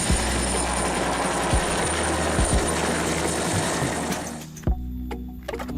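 A toy helicopter whirs with a steady buzzing motor and rotor drone, loud and close, with a few sharp clicks before it cuts off near the end.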